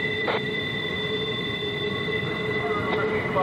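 A train rolls along Horseshoe Curve near Altoona, Pennsylvania, a steady, loud rumble with high, sustained wheel squeal running throughout, while radio chatter is faintly present.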